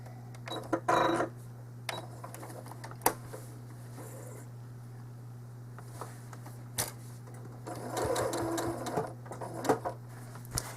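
A home sewing machine quilting a ribbon candy stitch pattern runs in short bursts, its needle whirring and clicking against a constant low electrical hum, with quiet pauses and handling noises between runs.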